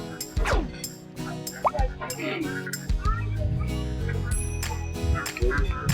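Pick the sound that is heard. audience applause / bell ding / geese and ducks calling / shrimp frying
geese and ducks calling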